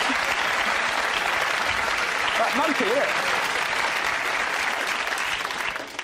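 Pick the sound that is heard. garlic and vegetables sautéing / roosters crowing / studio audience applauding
studio audience applauding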